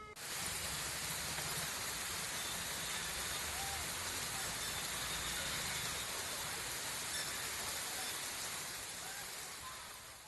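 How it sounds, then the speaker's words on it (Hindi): Heavy rain pours in a continuous dense roar of drops on surfaces, loud and unbroken across the whole stretch, with no speech over it. "भारी बारिश हो रही है वहां पर"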